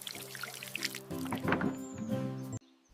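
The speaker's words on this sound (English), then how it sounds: "Watering." Water is poured onto vegetable garden plants, a soft continuous splashing mixed with light sustained tones that ends abruptly after a couple of seconds.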